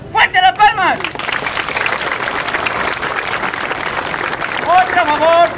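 A street audience claps hands loudly in a steady mass of applause, with voices shouting over the start and end.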